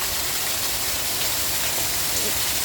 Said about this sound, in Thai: วันนี้ฝนตกตั้งแต่ตีห้าค่ะ ตกหนักวันนี้